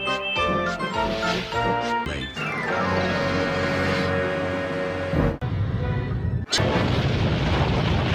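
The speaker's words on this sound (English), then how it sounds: "He banged the trucks hard into the buffers, but the buffers weren't stopped." An animated Thomas and Friends engine slams goods trucks hard into buffers, with booming, clattering crash impacts over continuous loud orchestral music and a heavy final burst of noise.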